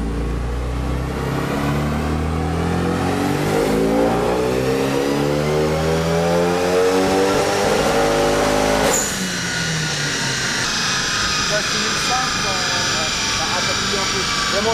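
A Renault Megane 3 RS engine on a dyno winds up in one long rising rev, loud and close, then cuts off sharply and settles into a lower roar, with voices talking over it.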